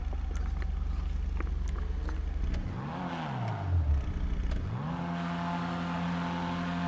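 HSW-upgraded car engine in GTA Online revving up and down in a few sweeping bursts, then settling into a steady drone, loud and close with no talking.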